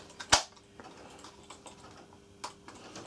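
A plastic body shell of an NMT model train car snapping into place over its chassis after an LED lighting kit is fitted, giving one sharp, close click followed by a few faint handling taps.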